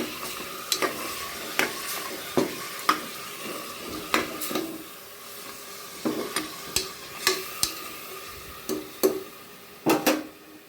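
Repeated scraping clinks of a utensil stirring mutton with turmeric in a pot, irregular strokes about once a second over a soft steady sizzle.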